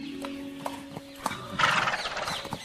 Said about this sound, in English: please take my finest horse with you